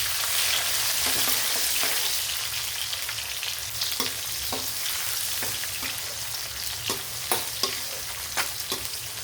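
Onion and green chili frying for country chicken varuval give a steady, close sizzle with scattered sharp clicks of stirring that grow more frequent toward the end, with no voices.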